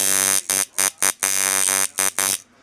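Clone Stealth coil tattoo machine, a heavy full-wrap build, running in a loud harsh electric buzz that cuts on and off in short bursts and one longer run before it stops; close, with no talk.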